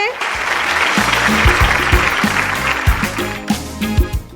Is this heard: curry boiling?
no